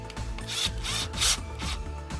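A screw is driven tight into an electrical outlet housing while an extension cord is assembled, giving a few close, repeated ratcheting and rubbing turns with brief pauses and no talk.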